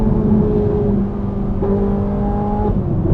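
A Ferrari 458 Italia's V8 engine sounds loud and close, revving with a droning, shifting pitch and pops and bangs on the overrun as the car drives.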